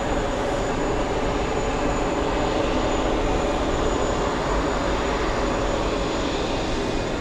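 A Russian aircraft takes off from JFK bound for Moscow, its jet engines sending out a loud, steady, broad roar with a thin high whine running through it, unbroken and with no voices over it.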